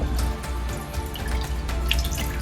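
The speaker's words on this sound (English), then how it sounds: "So let's go ahead and add the water" Water pours steadily into a wok for cheese tteokbokki, a continuous splashing trickle with small drips, close by and alone.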